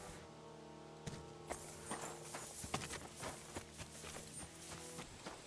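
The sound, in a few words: horse hooves clip-clopping in a video game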